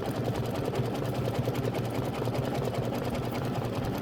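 An embroidery machine stitches a design with a steady, rapid mechanical rhythm. It is close and continuous throughout, with no talk over it.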